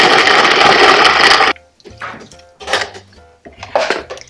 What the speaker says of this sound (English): Now we'll place it in food processor or blender or mortar and pestle